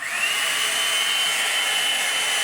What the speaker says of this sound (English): like a hair dryer slash straightener slash blowout